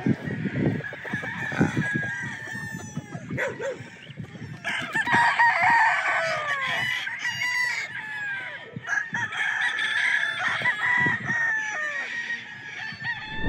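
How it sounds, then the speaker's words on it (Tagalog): Early Bird banded gamefowl roosters crowing repeatedly, several birds overlapping near and farther off, with clucking and scratchy barnyard noise between the calls. "napakarami nating early bird dito. Mga banded po yan."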